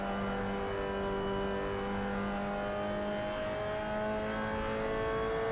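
A race car runs a lap of Lime Rock Park, its engine droning steadily with sustained tonal whine and gradual pitch shifts, loud and continuous throughout with no talking.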